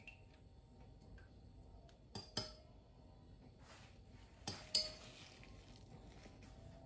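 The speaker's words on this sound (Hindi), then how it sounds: "अब मैंने जो है एग योक इसमें डाल दिया है तो मैं इसको अब थोड़ा सा मिक्स करूंगी।" A utensil stirs egg yolk into waffle batter in a bowl, making a few faint, sparse clinks and taps against the bowl in pairs over a quiet background.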